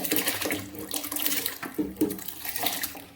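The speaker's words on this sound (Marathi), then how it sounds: "राईस टाकून घेऊया" Soaked rice tipped into a pot of hot water for chicken dum biryani, giving a close, steady watery splashing and sloshing that runs unbroken for a few seconds with no talk.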